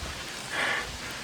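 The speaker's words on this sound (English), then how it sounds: "We just gotta get in and out before the rain starts dumping too hard." Rain is starting to fall in a rocky canyon slot, a steady hiss of drops pattering on surfaces with a slight swell in the middle, and no voices.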